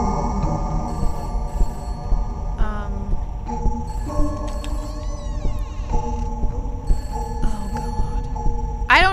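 A telephone rings in the dark house of the video game Peter's House. Repeated bright electronic tones sound over a steady low hum and other ambient noise.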